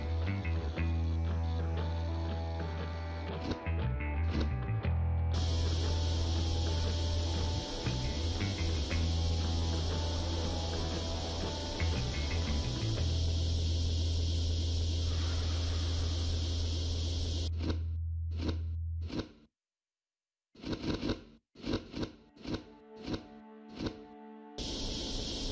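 Sustained spray hiss of rust removal in the Tank Mechanic Simulator video game runs steadily for nearly twenty seconds over a low hum, then cuts out and leaves only short, scattered clicks and bursts.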